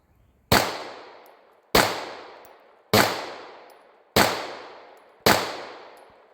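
A Bul Armory pistol fires 124 grain jacketed hollow point rounds in five loud, sharp, evenly spaced shots about a second apart. Each crack is followed by a short decaying echo, and no one speaks.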